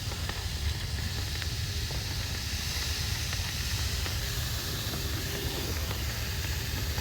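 Sirloin steak searing directly over hot coals on a Char-Griller offset smoker pit gives a steady, continuous sizzling hiss at moderate level that holds unchanged throughout, with no voices.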